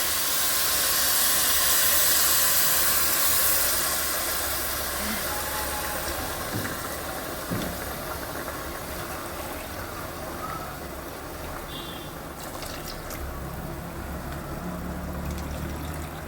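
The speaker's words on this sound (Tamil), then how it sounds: "இப்போ நல்லா கொதிக்க ஆரம்பிச்சிருச்சு." A steady, hissing bubble of coconut milk boiling in a pot for coconut rice, continuous broadband simmer with occasional faint clinks, no voices.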